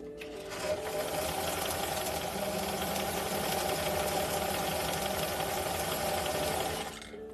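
A sewing machine stitches a pocket onto a garment with serged edges, running in one close, continuous mechanical whir for about six seconds before stopping abruptly.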